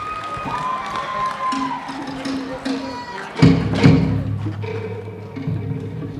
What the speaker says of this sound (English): give a round of applause for our awesome men here